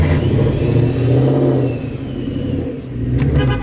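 A car engine hums and rises and falls in revs while being driven, a loud, close rumble that swells twice over a few seconds with no talk.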